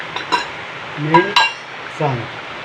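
A spoon stirs fish curry in a pot, clinking against the metal sides in a few scattered knocks, with brief voice-like sounds mixed in.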